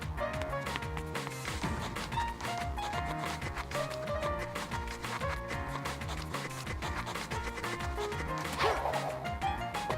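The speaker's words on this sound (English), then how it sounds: "This is the different materials that you can run on, and they each have their own sound effects" Rapid running footsteps over different surface materials in Roblox Sonic World Adventure, thudding and clattering in quick rhythm over a busy layer of game sound effects, with no talking.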